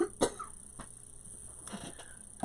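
A single short cough sounds early on, close and fairly quiet, followed by a few faint throat noises in a quiet room.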